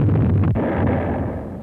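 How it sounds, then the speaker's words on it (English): Naval guns fire during the WWII Marianas invasion, a single deep, booming blast followed by a rumbling decay, loud and alone. "The naval guns worked overtime."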